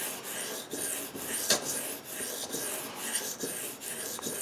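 A knife blade sharpened on a whetstone, repeated soft rasping strokes in an even rhythm, quiet and close.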